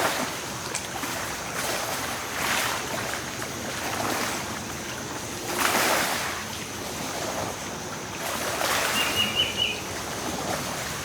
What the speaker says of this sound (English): as you hear the gentle lapping of the water.